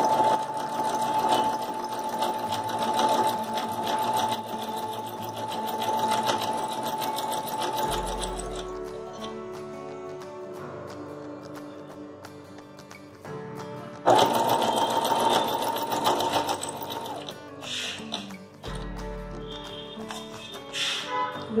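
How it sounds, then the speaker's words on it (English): A sewing machine stitches lace onto a dupatta in a fast, steady mechanical whir, stopping and restarting a few times, close and clear with no talking. "Fold it and stitch it till the end here."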